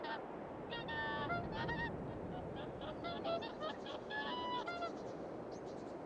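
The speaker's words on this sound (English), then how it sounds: "I don't know if you all are hearing those geese sounds." Geese honk repeatedly in a noisy chorus over a steady background rush, the calls overlapping and fairly close, coming in bursts, on a farm in the video game Farming Simulator 22, Karhuvaara map.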